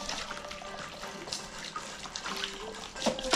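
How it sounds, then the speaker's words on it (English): Water splashing and trickling while buckets are rinsed out at a horse stable, a steady wet wash that grows louder and busier near the end, with no voices. "and I just rinse them"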